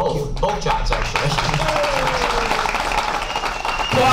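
Audience applause at a 44th Ward aldermanic forum, steady clapping from a crowd filling the room throughout, with a voice speaking over it.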